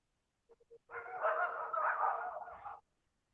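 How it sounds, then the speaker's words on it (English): A neighbor's dogs bark off in the woods, heard as a few short yips and then a sustained burst of barking for about two seconds, distant and moderately loud with no talk over it. "My neighbor's dogs. Oh, They're over in the woods."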